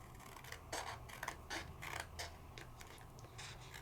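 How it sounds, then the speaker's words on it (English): Scissors trimming the rough edges of a sheet of rice paper make a series of close, quiet crisp snips and rustles, repeating irregularly over a low background hum; no talk. "we could get rid of our rough edges. And we could trim it all the way out."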